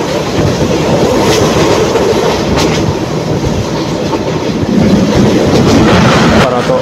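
Interior rumble of the intercity Parabat Express train running on rails toward Sreemangal, a loud continuous roar with rhythmic wheel clatter throughout.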